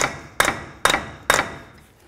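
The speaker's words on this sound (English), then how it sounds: "use a punch right in the center there and a hammer" Three sharp metallic hammer blows on a punch against the front axle of a 1999-07 Chevy Silverado, evenly spaced about half a second apart, each ringing briefly before fading.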